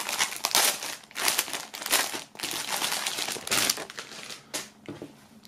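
Plastic film crinkling and crushing as an album box is unwrapped, close and loud, in uneven handfuls of crackling bursts with brief pauses between.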